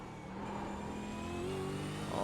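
A race car's mid-pitched engine holds a steady, loud drone at high revs, pitch climbing slightly as it pulls after a short shift into fifth, with no talk over it.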